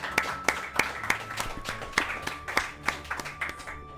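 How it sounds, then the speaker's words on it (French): Small audience at a French stage show claps in a steady, evenly spaced rhythm, sharp distinct hand claps repeating for several seconds with no other sound. "Vous pouvez vous applaudir"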